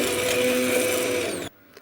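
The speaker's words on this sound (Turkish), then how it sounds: "Şimdi blender yardımıyla şöyle üstüne inceltelim." A kitchen blender whirs loudly and steadily as it purees boiled tomatoes and peppers for homemade paste, then cuts off abruptly near the end, leaving near silence.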